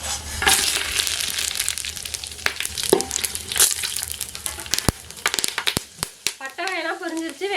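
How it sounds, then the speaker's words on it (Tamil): Whole spices such as cinnamon crackle and fry in hot oil in a pan, with loud sizzling, popping and scraping up close, broken by sharp clatters and a brief stretch of voice near the end. "எண்ணெய் சூடாயிட்டு பட்டை வகையெல்லாம் சேர்த்துக்கலாம்"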